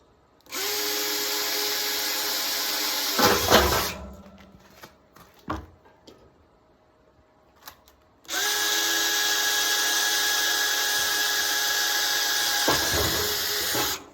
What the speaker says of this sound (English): Drill out your top hole and your bottom hole. Drill your pilot holes.